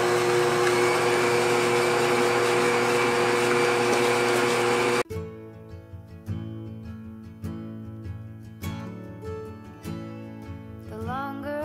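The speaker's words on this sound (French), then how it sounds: "Je vais rajouter et ensuite on va mixer" A kitchen blender mixes milk into a fish and spinach recipe, giving a loud, steady motor roar for about five seconds before it cuts off and music takes over.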